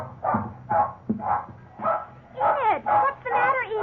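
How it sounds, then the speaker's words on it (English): A terrier barks wildly in a classic radio legal drama, giving about seven rhythmic, close, loud barks in quick succession with no other sound. "You can understand our big surprise when suddenly Enid began barking wildly."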